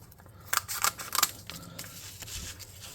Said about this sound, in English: I'm just going to cut this about yay tall